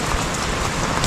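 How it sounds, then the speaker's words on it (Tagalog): Heavy rain pouring down steadily as a dense, loud hiss of drops hitting surfaces, continuous and close, with no voices. "Lalo na't maulan, malakas ang ulan."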